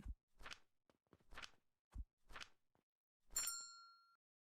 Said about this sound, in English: Keep ringing that bell.